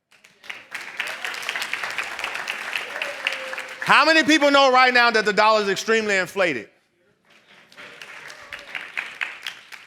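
An audience at a holistic training seminar claps, scattered hand claps crackling beneath a man's amplified, emphatic speech. The claps are sparse and fairly faint, and they pick up again after a short pause.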